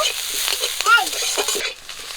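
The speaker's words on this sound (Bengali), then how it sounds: "কাঁচা লঙ্কা আর পেঁয়াজ একটু লাল করে ভেজে নিয়েছি" Green chili and chopped onion fry in a pan, a loud close steady sizzle with stirring scrapes and brief spatters, ending quieter as the heat settles.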